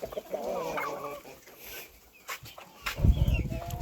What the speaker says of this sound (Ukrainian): Бігають ці тут, ці тут, курчата там.